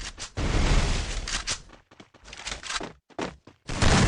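Gunfire from a PC shooter match in a tournament quarter-final, heard as loud dense bursts of shots separated by brief gaps, close and harsh with no talk over them.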